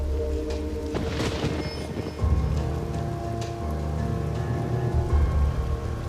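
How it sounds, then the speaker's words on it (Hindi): Steady heavy rain falling outdoors, a dense continuous hiss with a low rumble like distant thunder underneath, loud and close with no voices. "बारिश हो रही है,"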